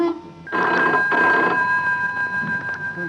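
A telephone rings in a household, its electronic bell sounding in repeated bursts close by and loud, with no talk over it.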